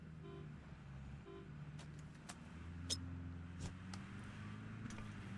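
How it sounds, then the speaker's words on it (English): In PUBG, a car's engine drones steadily at a distance, a low hum that gradually draws nearer and rises slightly in pitch, with a few sharp clicks and taps over it. "There goes that car."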